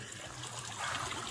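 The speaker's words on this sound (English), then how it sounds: "Listen to the sloshing of the water." Water sloshes and trickles during a rescue from a pond, a soft, continuous splashing heard at a distance and fairly faint, with no voices.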